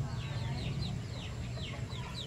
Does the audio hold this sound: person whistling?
no